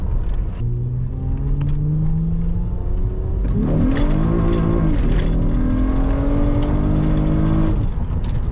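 A 2004–2008 car with a lightweight pulley accelerates hard with traction control off, a loud engine rising in pitch through the gears with a brief dip at a shift, heard from inside the cabin.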